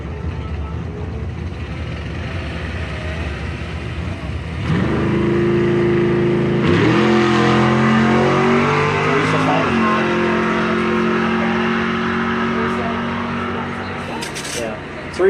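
Junior dragsters at a drag strip start with a low idle, then their engines roar up loudly with rising, shifting pitch for several seconds before tapering off, while an announcer talks over the racing.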